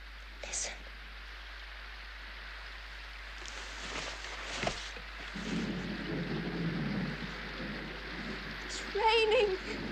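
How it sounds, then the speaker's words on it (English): Steady rain hisses under low rumbles of thunder, with a few brief sharp cracks and a murmuring voice in the background. "It's honest to God raining, Ben!"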